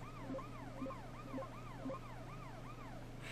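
A wailing video game ambulance siren rises and falls in a steady repeating cycle, clear and continuous over a low constant hum, with no talking.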